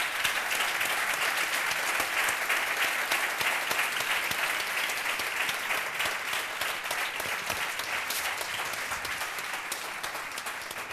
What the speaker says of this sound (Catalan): els hi demano que els hi donin un fort aplaudiment a tots els participants